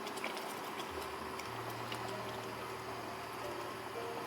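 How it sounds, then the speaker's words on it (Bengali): Curry gravy for alu katli bubbles in a pan, giving a faint, steady simmer with soft popping and ticking, close by and quiet, with no one talking. "ঝোলটা ফুটে গেছে"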